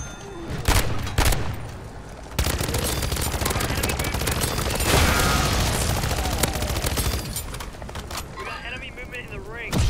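Rapid bursts of submachine gun fire from the video game MW3 Zombies rattle almost without pause and sit loud and close, while a voice talks over the shooting.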